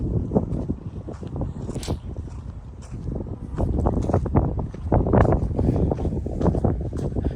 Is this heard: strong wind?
yes